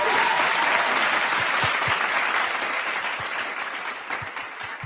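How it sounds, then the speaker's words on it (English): Dense, lively applause from a group of people clapping together, loud and continuous at first and gradually thinning toward the end, with a few sharper individual claps standing out. "allow me to clap for Goliath for such a good gift"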